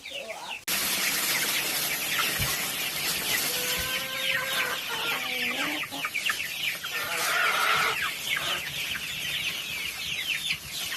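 Several chickens in a backyard coop cluck and murmur continuously at close range, with overlapping calls rising and falling over a steady background hiss.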